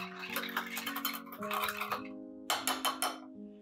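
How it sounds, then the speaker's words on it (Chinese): Egg whites mixed with monk fruit sweetener and vanilla by hand, a quick clinking rhythm of a utensil striking a bowl in bursts, close and fairly quiet, with no talking. "蛋白跟罗汉果糖加点香草精混合均匀啊"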